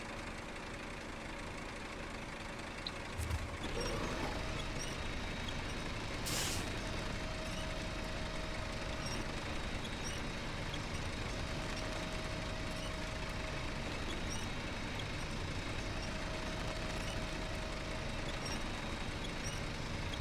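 Heavy truck in SnowRunner idling with a low steady engine drone, a sharp air-brake hiss bursting out early before the rumble continues evenly.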